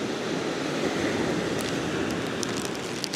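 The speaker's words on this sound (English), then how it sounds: "The waves do keep catching me out every now and then." Ocean surf washes steadily onto a beach where fossilised shark teeth are being hunted, a continuous loud roar of breaking waves with wind buffeting the microphone.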